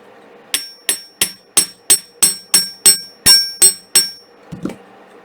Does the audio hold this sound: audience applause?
no